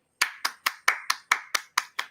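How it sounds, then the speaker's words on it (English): Nine crisp, evenly spaced hand claps ring out in a steady rhythm, close and fairly loud. They come from a small audience at a Friday night live show, with no voices over them. "definitely round of applause"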